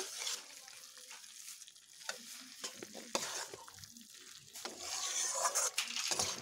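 Jackfruit seeds are sautéed in a pan, a steady sizzle of frying under repeated stirring and scraping, the spatula's strokes coming in irregular bursts with no talking.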